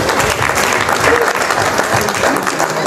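A church congregation applauds the Lord, with dense, steady clapping filling the whole stretch and a faint murmur of voices mixed in.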